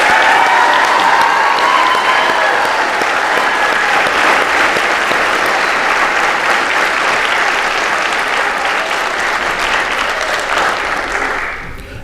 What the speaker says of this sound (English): Ladies and gentlemen, join us in a round of applause to congratulate these men and women